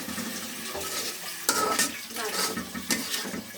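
Fish curry being stirred in a cooking pot, with scraping and clinking of a utensil against the pot and a faint sizzle underneath, in several uneven bursts.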